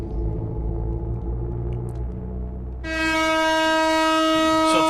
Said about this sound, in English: So eventually this train makes a loud honking noise as it's going somewhere